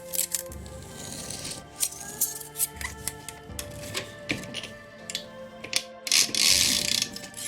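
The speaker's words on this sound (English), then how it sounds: "we slowly pull the spring through the clean cloth while we're holding it relatively tightly" Clock mainspring from a 1916 W.L. Gilbert mantle clock pulled slowly through a clean cloth, giving a series of close, irregular metallic clicks and ratcheting scrapes with soft rubbing between them.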